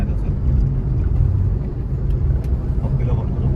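Steady low road rumble and engine drone inside a car cruising on a highway between Ganpatipule and Mumbai, continuous and close, with occasional faint voices underneath.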